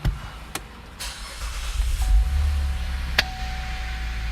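A Cadillac SRX engine cranks and fires up at close range, a brief starter whir giving way to a steady low idle rumble that continues to the end, with a couple of sharp clicks along the way and no talking.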